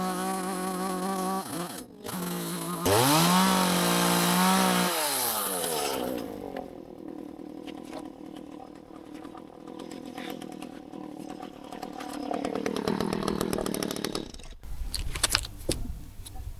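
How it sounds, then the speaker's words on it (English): A chainsaw squares a wooden railroad tie, revving loudly with wavering pitch, then settling into a long, rough, sustained cut that rises again toward the end before dropping off. "Especially when you're chainsawing."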